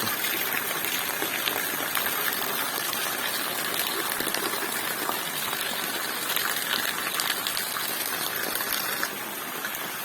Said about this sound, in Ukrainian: Не злива, а помірений, але добрий дощик падає.